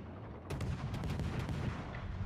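Cruiser Kleber's guns firing in a naval video game, a dense rumbling barrage of rapid overlapping booms that starts abruptly and keeps going without pause.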